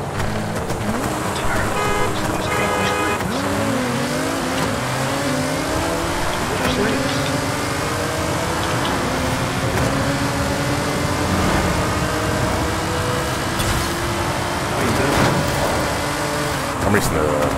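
In Forza Horizon 5, a racing car engine in a street race revs and shifts through gears, loud and continuous with rising and falling pitch sweeps, while people talk over it.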